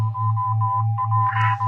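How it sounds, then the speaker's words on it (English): Repeating Morse code beeps from an SOS signal in an old-time science fiction radio drama, a steady tone keyed on and off in a quick, even rhythm over a constant low hum, with a brief burst of static near the end. "He started on voice and switched to Morse."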